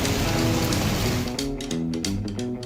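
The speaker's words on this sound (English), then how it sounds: "It's raining outside." Steady rain falls outdoors in a cartoon scene, a continuous hiss with a few soft thuds and brief musical tones layered over it in the second half.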